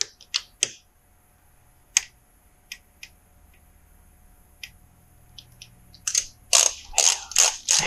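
A torque wrench tightens engine bolts on a 2005 Kawasaki Ninja 250 during a rebuild, producing scattered sharp metallic clicks and ratcheting ticks in a quiet workshop, with a burst of denser clicking near the end.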